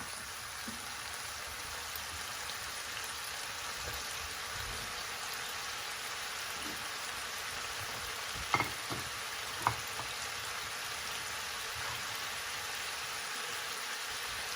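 Steady soft sizzling of san choy bow filling cooking in a hot pan until the liquid reduces, a constant low crackle with a couple of brief clinks partway through.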